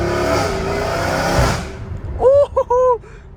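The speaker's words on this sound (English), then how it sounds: "the downshifts are amazing on this thing" An 850 hp Dodge Hellcat Redeye roars through hard revving before cutting off, followed by sharp, crackling downshift blips in quick bursts, loud and close.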